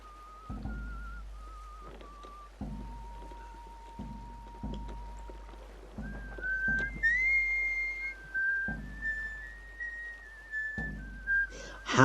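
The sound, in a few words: character whistling a song in video game Sea of Thieves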